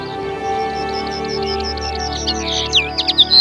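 Birds sing and chirp in an open natural field, a series of quick repeated high tweets running over a steady background hum, with sharper calls toward the end.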